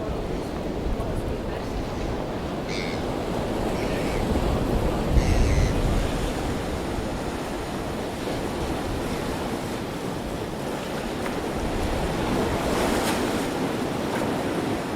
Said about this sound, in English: I've made a short ambience video of the beach and the view